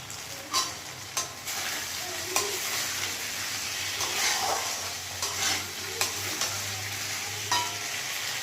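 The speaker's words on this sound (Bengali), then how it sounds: "সুন্দরভাবে মশলাটা আলুর সঙ্গে কষানো প্রায় হয়েও গেছে, এবং দেখো খুব সুন্দরভাবে চারদিকে তেলটাও ছেড়ে এসছে।" Spice paste being sautéed with potatoes in oil, a low continuous sizzle with intermittent scraping knocks of a spoon stirring, close but fairly quiet, with a faint steady hum underneath and no speech.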